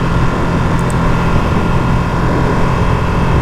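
A 2023 Ducati Panigale V2 Bayliss edition V-twin engine revving with a loud, steady, close-up rumble, no voices.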